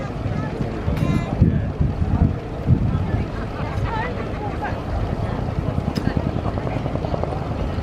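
A helicopter flies at the RIAT airshow, its rotor drone carrying steadily through gusty wind noise, while an announcer speaks over a public address system throughout.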